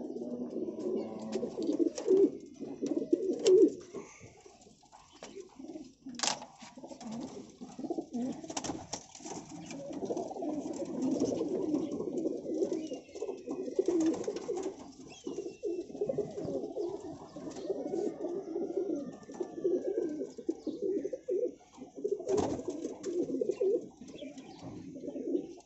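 Pigeons in a breeding loft keep up a steady, close, low cooing chorus the whole time, overlapping murmurs rising and falling with a few brief sharper sounds and no talk.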